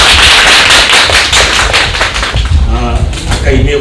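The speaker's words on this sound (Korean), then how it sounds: "우리 종료의 박수 드립니다" A church congregation at a Sunday service breaks into loud, dense applause that thins out toward the end, with voices mixing in underneath.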